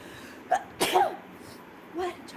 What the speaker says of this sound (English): He's making me sneeze.